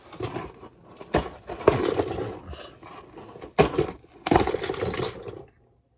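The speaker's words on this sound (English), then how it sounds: "Yes, I'm gonna use some keys to open the box." Keys scraping and slicing through cardboard tape to open a box holding a pink camera, in a quiet room at night, heard as several close, rough bursts of tearing and scratching with short pauses between them.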